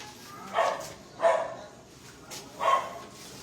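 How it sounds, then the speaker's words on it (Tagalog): A dog barks three times at a moderate distance, with short pauses between each bark and a quiet background. "Ayun ang aso."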